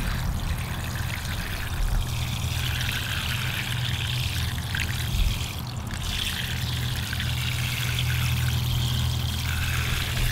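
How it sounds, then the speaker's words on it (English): Water pours steadily onto a freshly transplanted cacuzza squash plant, a continuous close splashing trickle that lasts throughout with only a brief dip midway. "let this thing drink a lot of water. Water it good."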